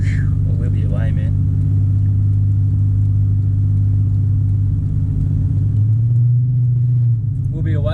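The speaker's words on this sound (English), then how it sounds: "Drive around in comfort in the Chaser, get it running right, get it boosting all right" A Toyota Chaser's engine while driving: a loud, steady low rumble and hum that continues throughout, with brief bits of voice at the start and end.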